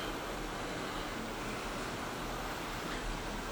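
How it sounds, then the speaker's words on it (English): A creek runs behind a campsite at Vogel State Park in the North Georgia mountains, a steady broadband rush of flowing water, constant and even throughout with no talk. "The creek runs behind us."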